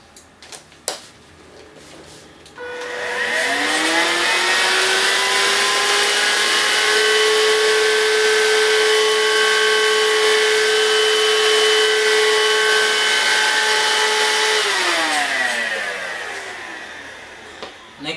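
A Dibea F6 2-in-1 cordless vacuum cleaner spins up with a rising whine, runs as a loud steady motor hum for about twelve seconds, then winds down, with a few clicks before and after.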